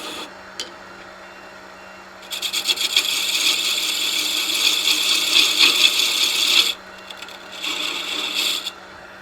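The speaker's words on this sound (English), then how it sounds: "we're going to make a tenon on this that will fit inside the lid" A lathe tool cuts a tenon on a turned wooden Christmas tree box, producing a close, rough scraping and rasping that comes in two sustained bursts over a low machine hum. No one speaks.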